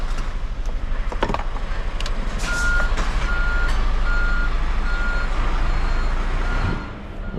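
A truck backs up into a parking spot, its reversing alarm beeping in a steady, evenly spaced series over a loud low engine rumble, fairly close, with no talk.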